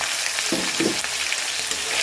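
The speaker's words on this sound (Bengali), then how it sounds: "এখন এই পুরো মশলাটা দিয়ে আমি কষাই নেব" Spices stir-fried with reddish fried onions in a pot for chicken khichuri, giving a steady, bright sizzle throughout with a couple of soft stirring scrapes.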